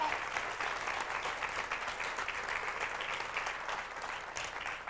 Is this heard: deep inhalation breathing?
no